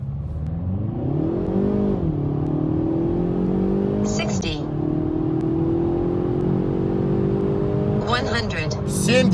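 Kia Proceed GT (2019) accelerating at full throttle with climate control off, a steady engine drone climbing in pitch through the gears, with brief shift pauses and someone talking over it.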